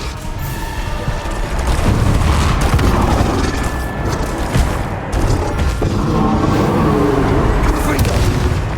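Repeated Confringo blasting-spell explosions in a Harry Potter video game, booming blasts layered over a dense, continuous roar of spell combat, loud and sustained throughout with bursts rising at intervals.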